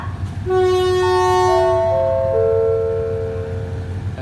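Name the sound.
passenger train at station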